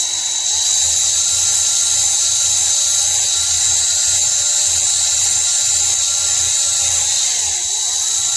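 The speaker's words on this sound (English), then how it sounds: "I take my time at it because I don't want to drill through and puncture it" Steady high-pitched whine of a small drill boring through the dash panel of a 2007 Peterbilt 379, loud and close, running continuously without pause and with no voices.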